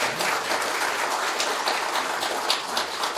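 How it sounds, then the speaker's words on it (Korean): An audience at a seminar applauds four speakers with dense, sustained clapping from many hands, steady and fairly loud throughout with no talking over it. "이 네 분에게 박수 한번 크게 좀 보내드리십시오."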